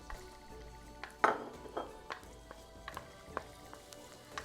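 Two cloves of finely chopped garlic stir-fried in a hot pan, with soft sizzling under a run of light metallic clinks and scrapes from stirring, one sharper ping standing out near the start.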